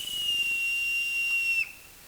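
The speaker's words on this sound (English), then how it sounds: "Then Silver brought out a whistle." Long John Silver blows a whistle in a Treasure Island drama: one loud, shrill, steady whistle tone held for about a second and a half, then cut off abruptly.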